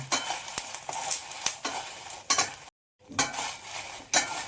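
Three sprigs of washed, dried curry leaves fry with chillies in a pan for puliyogare spice powder, giving a steady close sizzle broken by stirring scrapes and clinks, with one brief silent gap midway.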